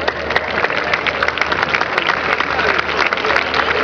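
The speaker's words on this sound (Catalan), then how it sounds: "és el moment de tornar a cridar i aplaudir veles i vents" A crowd at an open-air havaneres singing event in Calafell on the Costa Daurada cheers and applauds, dense continuous clapping with shouts mixed in, loud and sustained throughout.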